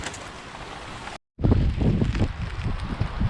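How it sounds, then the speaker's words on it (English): Strong storm wind buffets and hammers a cover over a boat under fibreglass repair, beginning as a steady roar, then after a brief dropout turning into loud, gusty thumping and flapping close to the microphone. "this is prevailing wind and it's absolutely hammering the cover"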